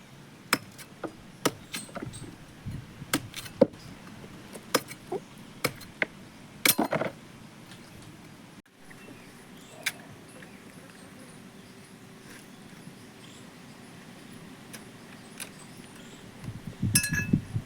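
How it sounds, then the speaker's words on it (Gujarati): A coconut being cracked open: sharp, hard knocks strike in an irregular series, several blows close together, followed by quieter rustling and a final cluster of hits. "ચાલો હવે આપણે નારિયેળ તોડીએ"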